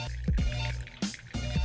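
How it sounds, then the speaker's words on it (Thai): Hot water poured from a kettle into a Next Level Pulsar no-bypass coffee dripper over coffee grounds, heard as short close splashing and trickling bursts with brief pauses between pours. "เปิดวาล์วด้วยนะคะ แล้วก็เทน้ำได้เลยค่ะ"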